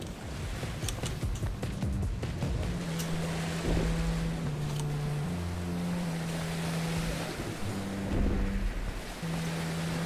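Boat rocking on water waves in the video game What Lives Below, with a steady wash of wind and surf under low sustained tonal music, swelling briefly near the middle and end.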